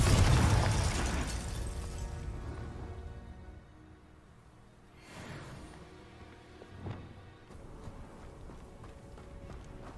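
Confringo blasting spell in the video game Hogwarts Legacy, a loud booming explosion at the start that decays into rumble, followed by softer bursts and impacts.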